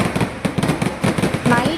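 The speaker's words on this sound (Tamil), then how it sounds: "வெடியை பார்த்தீங்களா?" Fireworks burst at the Nenmara Vela festival in Kerala, a rapid run of loud, close crackling bangs in uneven bursts, with voices underneath.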